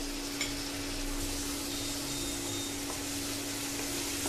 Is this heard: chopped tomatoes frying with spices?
yes